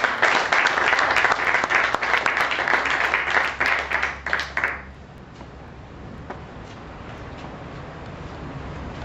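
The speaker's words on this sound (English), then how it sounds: "I'd like to give a round of applause to John and Sue Pass." An audience claps for about five seconds, then the applause cuts off, leaving a quiet room with faint background noise.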